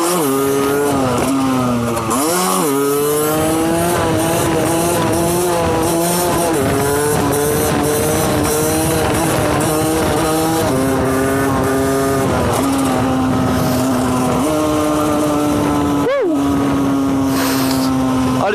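A motorcycle rides along continuously, its engine note loud and close, rising and falling through gear changes, with a rider talking over the engine throughout.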